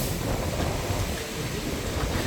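Rough, stormy sea at Keerimalai in wind and rain: a dense, continuous roar of surf and gusts buffeting the microphone, loud and close.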